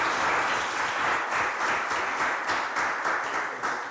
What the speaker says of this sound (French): Est-ce qu'on peut applaudir Bani et Elios?